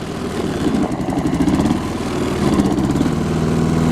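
A lawn mower engine runs steadily nearby with a fast, even, throbbing pulse that holds loud and constant for a few seconds.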